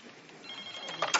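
A telephone rings unanswered, its electronic ring building toward a brighter burst near the end over a faint, hissy background.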